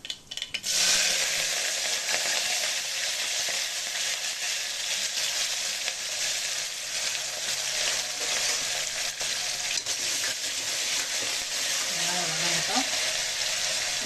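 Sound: onions sautéing in oil

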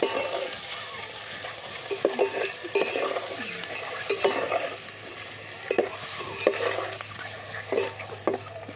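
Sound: stir-frying eggs for egg biryani

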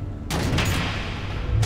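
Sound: missiles exploding in a Batman video game

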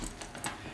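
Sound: zipper being undone on camera backpack front compartment

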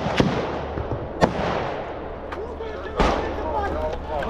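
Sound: grenade explosions and gunfire during trench assault

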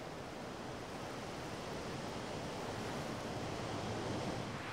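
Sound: rough sea waves lashing island coast in mistral wind

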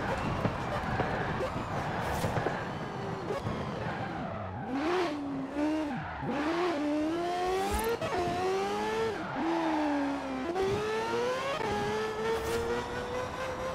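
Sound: Mazda RX-7 Spirit 2002 engine revving in video game Forza Horizon 4

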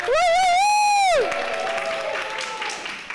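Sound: audience applause

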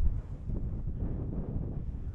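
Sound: wind blowing on a fell

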